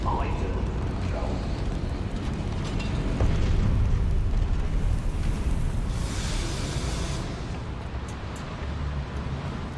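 Fiery explosion from the Confringo spell in the Hogwarts Legacy video game, a sustained loud rumbling blast that swells around the middle and then tails off, with a voice speaking over it.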